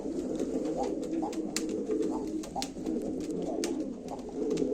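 Pigeons coo in a steady, continuous murmur throughout, with scattered sharper calls and clicks, at a live pigeon auction.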